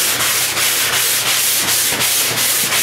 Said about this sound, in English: So we're just gonna sand and make sure that we don't hit the edges.